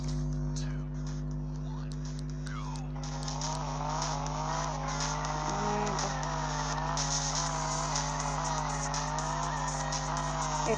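Car engine revving with tire skids in the Drift Max video game, a steady droning motor tone with shifting pitch and brief squealing slides, loud and continuous under occasional speech.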